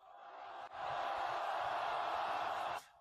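A crowd shouting together in a sustained, loud roar that swells in suddenly and holds steady for a couple of seconds before cutting off.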